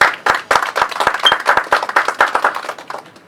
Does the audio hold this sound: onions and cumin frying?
no